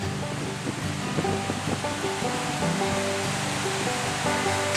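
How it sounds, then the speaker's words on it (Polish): The Kamienica, a mountain river flowing through a small village at the foot of Śnieżnik in the Kłodzko Valley in February, gives a loud, steady, continuous rush of water with no pauses. "Przez wieś przepływa malownicza górska rzeka Kamienica."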